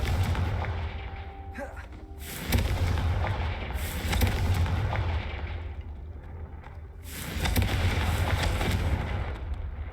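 Confringo fire-blast spell explosions in Hogwarts Legacy: heavy booming blasts land around 2.5, 4 and 7 seconds, each a loud broadband burst that rumbles and fades over a steady low background.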